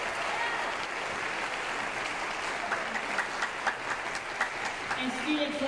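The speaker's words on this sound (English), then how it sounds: "can we give these students on stage a round of applause for their willingness to make it work?" Sustained applause from a high school band spring concert audience, many hands clapping in a dense, even wash that stays steady throughout.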